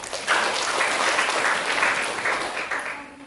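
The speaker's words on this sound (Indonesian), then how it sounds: "Berikan tepuk tangan bagi kita." Congregation clapping in a church during a sermon, a full, dense round of applause that swells early, holds strong and thins out toward the end, with no talking over it.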